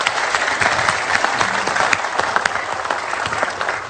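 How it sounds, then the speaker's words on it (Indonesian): Sustained, dense applause from an audience at a televised Indonesian legislative candidates' debate, loud and steady for the whole stretch with no talk on top. "Kita berikan tepuk tangan Arswendo Atmowiloto."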